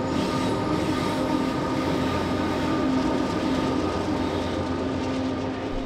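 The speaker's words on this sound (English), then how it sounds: "they were met with an approaching train" A train rumbles past on the Pope Lick trestle with a steady, dense roar of wheels on rails and a faint metallic squeal, loud and continuous throughout.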